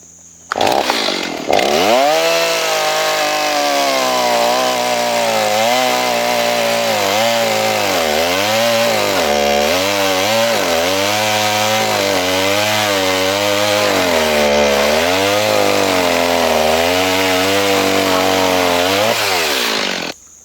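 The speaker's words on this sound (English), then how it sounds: "What do you say we have us a little encore with the chainsaw?" A chainsaw runs loud and close for about twenty seconds, its engine pitch dipping and rising repeatedly as it bites through old dead dry wood, with no talking.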